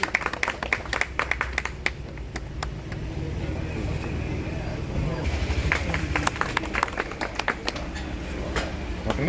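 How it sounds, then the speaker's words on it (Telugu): A crowd at an outdoor public gathering claps in irregular bursts, sharp overlapping hand claps over a bed of murmuring voices and background noise. "చప్పట్లు కొట్టండి అందరూ."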